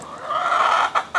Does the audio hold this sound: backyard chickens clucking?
yes